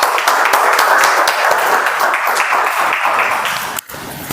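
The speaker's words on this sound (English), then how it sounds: "I would like to give a thunderous round of applause to RG." A Toastmasters meeting audience gives a dense, continuous burst of clapping at close range, strong and even for about four seconds before it cuts briefly near the end.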